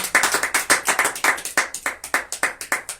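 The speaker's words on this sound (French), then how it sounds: "Est-ce qu'on peut acclamer pour le Seigneur?" Congregation at a church service clapping together in a steady, brisk rhythm, about six claps a second, with the crowd's hands ringing out sharply and no cheering voices standing out.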